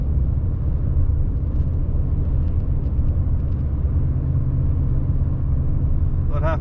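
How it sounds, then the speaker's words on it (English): Big logging truck on a winter mountain road in British Columbia, a steady, heavy low rumble of engine and tires heard from inside a vehicle, continuous and fairly loud. "Got to let the big logging truck pass."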